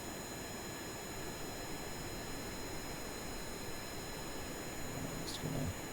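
A science plane's jet engine runs at full throttle in Kerbal Space Program, giving a steady, even, fairly faint roar with high whining tones over it. A brief voice comes in near the end.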